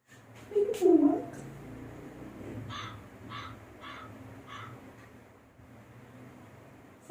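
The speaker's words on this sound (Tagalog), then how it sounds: "May uwak." An outdoor crow caws four or five times in a short, evenly spaced series, moderately distant, after a brief louder rustle at the start.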